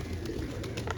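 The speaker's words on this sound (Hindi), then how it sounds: "कबूतर मेरे काफ़ी ज़्यादा प्यासे हो गए हैं, तो पानी का इंतज़ार कर ही रहे हैं।" Thirsty domestic pigeons waiting for water during the rainy season make a brief, soft burst of cooing and bird calls, fairly close, with a steady low background murmur.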